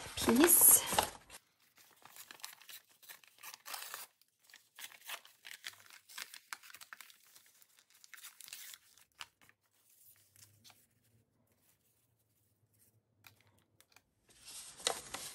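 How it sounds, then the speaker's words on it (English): A sheet of music paper is torn out for decorating a folio: a sharp ripping burst opens, faint rustling and handling follow, and a second short tear comes at the end. "So I'm going to tear out a piece."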